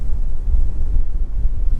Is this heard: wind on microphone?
yes